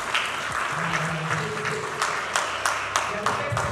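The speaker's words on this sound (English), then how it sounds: "Please clap for us now" Audience at a Nigerian health journalism news event clapping in a loose, moderate patter, with a low hum and some murmured voices running underneath.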